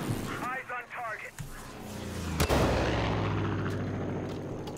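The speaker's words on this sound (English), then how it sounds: "we're getting shot at" Gunfire from the video game Far Cry 5, a sharp close shot followed by a sustained rumbling barrage under excited voices talking over each other.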